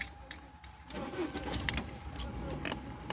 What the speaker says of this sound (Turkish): Arabamızı çalıştıralım arkadaşlar.